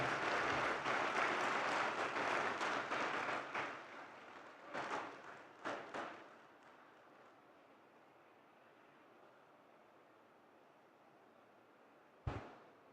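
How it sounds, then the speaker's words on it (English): Graduation ceremony applause from a large audience, loud and dense for the first few seconds, then thinning into a few scattered bursts before fading into quiet room tone, with one sharp knock near the end. "A round of applause, please."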